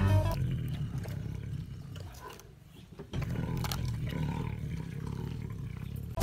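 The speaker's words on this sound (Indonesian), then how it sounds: "Wah, kakak menemukan seekor harimau." A tiger gives a loud, deep roar close by, a rumbling growl that breaks off briefly and then surges again into a sustained roar.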